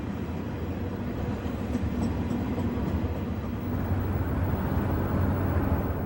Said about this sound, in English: An Oak Island to Conway freight rolls westbound along Turtle Creek as it passes through Pitcairn.